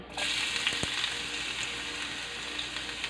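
Garlic fries in hot cooking oil, a dense continuous sizzle starting abruptly and holding steady and close, with faint clinks and crackles of stirring scattered through it.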